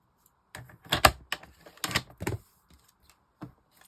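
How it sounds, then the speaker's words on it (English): A strip of card is cut during card making, with a few crisp, sharp clicks and snips in short bursts separated by near silence, close by and moderately quiet. "I'm going to cut that strip off first, and then I'm going to turn it round, cut it at 10."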